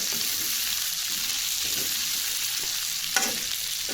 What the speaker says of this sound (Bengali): এখন আলুগুলো ভেজে নিচ্ছি নতুন কড়াই তাই কড়াইয়ে লেগে গেছে